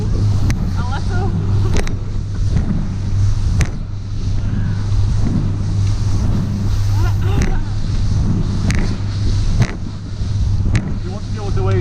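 A speedboat racing across a rough Scottish sea from Lochgoilhead to Stevenston drones steadily while wind buffets the microphone and waves slap and thump against the hull, with occasional voices underneath.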